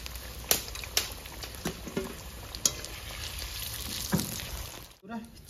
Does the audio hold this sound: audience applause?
no